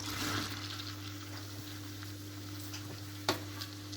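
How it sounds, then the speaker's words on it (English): Garlic, spring onions and mushrooms fry in very hot butter with a steady crackling sizzle, joined by scraping stirs and a sharp knock of utensil on pan near the end, over a low constant hum. "I've got the butter really hot now. So in goes the garlic, the spring onions, okay, and the mushrooms"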